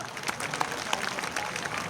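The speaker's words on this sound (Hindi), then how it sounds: "इनके लिए सबसे पहले आप ताली बजाइए।" Crowd applause at an outdoor World Indigenous Peoples' Day rally in Dungarpur, Rajasthan: brief, steady clapping from a large gathering, heard at a distance and fairly faint, with no distinct voices.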